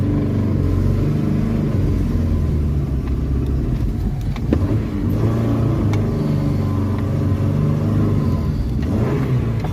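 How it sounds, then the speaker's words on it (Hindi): A car drives along a road near the Chenab River in Punjab, Pakistan, its engine rumbling loudly and steadily with some whirring and clicks, close by throughout. "अभी जा रही है जी गाड़ी।"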